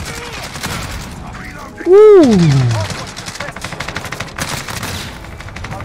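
Rapid automatic gunfire from the video game Modern Warfare, Season 6 with an AMAX rifle, crackles in bursts throughout alongside a sharp swooping effect near the start, with a player talking over it.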